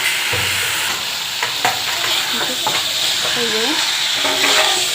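Potatoes and chicken pieces are stir-fried in a pan for a Sunday chicken curry: continuous loud sizzling with repeated scraping and stirring strokes of a spoon against the pan, and no talk.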